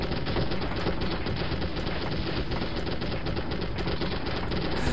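Dense, continuous automatic gunfire in the 1998 video game M.I.A. Missing in Action, rapid overlapping bursts with steady loudness and no letup across the whole stretch.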